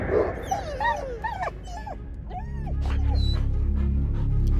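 Cerberus, the monstrous guard dog of Hades, whimpers and yips in a series of high, wavering whines, close and loud, before a low rumbling drone builds beneath.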